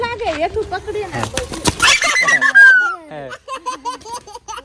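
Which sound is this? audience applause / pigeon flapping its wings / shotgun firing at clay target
pigeon flapping its wings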